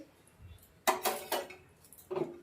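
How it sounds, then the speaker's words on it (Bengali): A metal utensil stirs hot oil in a cooking pan, sounding as a few close, sharp clanks and scrapes against the pan after a quiet start, then another short clatter. "তেলটা একটু নাড়িয়ে দিয়ে দেখি তেলটা গরম হয়ে গেছে"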